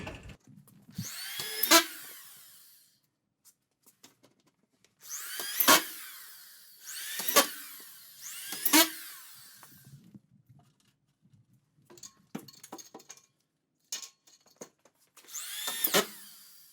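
A power drill driving screws through drywall into a metal track, in several loud bursts of a second or so each, separated by quiet pauses and faint handling noises.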